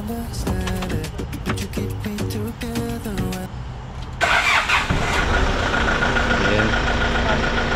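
A Hyundai Porter II Euro 4 truck's engine starts after a stretch of rhythmic chiming and clicking, then settles into a steady, close diesel idle that carries on to the end.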